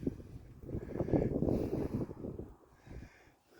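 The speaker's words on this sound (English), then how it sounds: "Oh, this might be breezy." Outdoor wind buffets a microphone at a fort in Bluff, Utah, a loud, rumbling roar that swells in the middle and then eases off toward the end.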